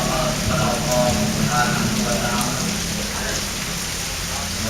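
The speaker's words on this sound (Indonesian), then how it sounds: "meskipun hujan turun dengan derasnya" Heavy rain pours down steadily as a dense, continuous hiss that stays loud throughout, with faint indistinct voices occasionally showing beneath it.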